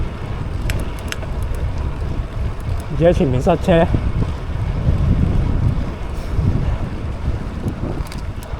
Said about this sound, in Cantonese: 太大風啦